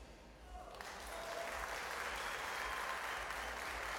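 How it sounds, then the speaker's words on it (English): Distant applause from a neighbouring table at a pro 8-ball billiards championship, a steady wash of clapping rising after the first second and continuing at low level. "you can probably hear lots of applause in the background on table 1"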